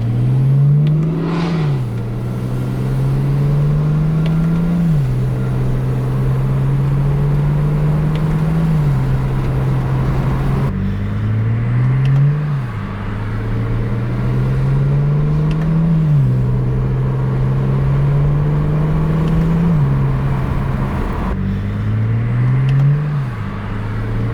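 A tuned BMW 335i with an automatic transmission accelerates hard, the engine note climbing steadily and then dropping sharply at each quick upshift, repeating in a rising sawtooth pattern, loud and close with no talk.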